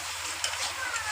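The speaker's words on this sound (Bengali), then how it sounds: "মশলাটা কষে নেবো।" Spice paste frying and being stirred in hot oil for a Bengali prawn curry with ridge gourd, giving a steady close sizzle with a brief scrape of stirring, with no talk.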